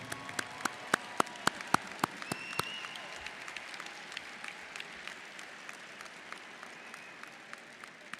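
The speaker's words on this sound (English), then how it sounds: "let's give them a round of applause and thank them for their support" Applause from the audience at the Texas Tech ring ceremony opens with a few loud, distinct claps, then settles into softer, thinner, scattered clapping that patters on until the end.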